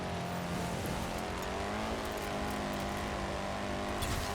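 An underpowered car in Forza Horizon 4 is held at full throttle, its engine droning steadily with a strained, slowly shifting pitch and faint tire noise, loud and close with no talk.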